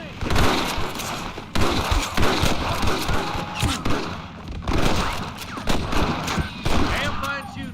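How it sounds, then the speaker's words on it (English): Heavy exchange of gunfire in Red Dead Redemption, loud overlapping shots and volleys hammering in close bursts with brief gaps between them. "Damn fine shooting, boys."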